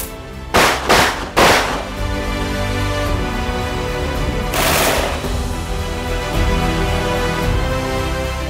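Test shots are fired at an Israeli ballistic protective shield on a live-fire range. Three loud, sharp cracks come in quick succession, then a single fourth shot follows after a pause, each ringing out against a steady background hum.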